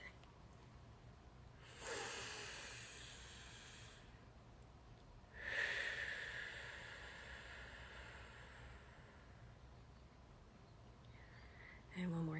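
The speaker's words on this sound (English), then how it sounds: "So everybody take a deep breath." Two long, deep group breaths in a quiet meditation session, each a broad airy rush of inhaling and exhaling lasting a few seconds, separated by a pause, with a low steady hum underneath.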